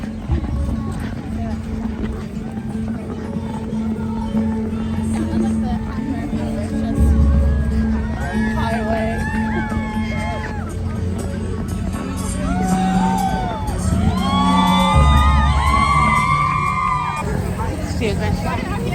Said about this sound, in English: There's a chorus up here cheering us on.